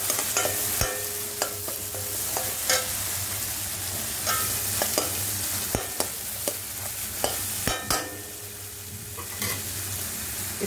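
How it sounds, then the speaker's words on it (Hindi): Poppy seeds (khus khus) frying in a pan over low heat while being stirred, with a steady soft sizzle and repeated sharp clinks and scrapes of a spoon against the pan, close and alone with no talk. "मुझे थोड़ा सा खसखस फ्राई पसंद है, इसीलिए मैंने खसखस पहले डाल दिया है"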